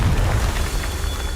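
A Confringo blasting spell goes off in Hogwarts Legacy with a loud, low, rumbling boom that holds dense and sustained for over a second, with no voices in it.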